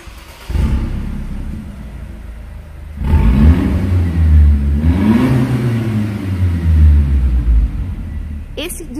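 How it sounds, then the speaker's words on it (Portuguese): A Mercedes SLK200 engine with a sport exhaust valve revs up with a deep, throaty exhaust roar, rising and falling in two bursts after a short idle, close and loud. "Esse difusor de escapamento você pode controlar ele com ronco esportivo como está agora"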